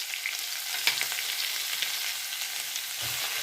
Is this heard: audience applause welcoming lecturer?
no